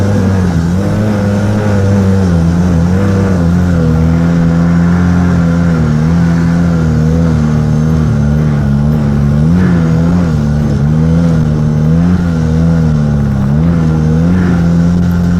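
A snowmobile engine revs hard and steadily for the whole stretch, loud and close, its pitch wavering as the sled spins, then climbs a steep, rutted hill.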